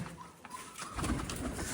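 Soft, low pigeon coos rise close by over light background rustle, with no talking.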